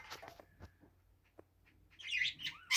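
Budgerigars in an aviary give short, scattered chirps and squeaks, faint at first and then a brighter burst of twittering near the end, heard alone without talking.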